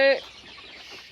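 A short, sharp cluck from a broiler chicken up close, then a faint murmur of a large farm flock of about 6,000 birds in the background.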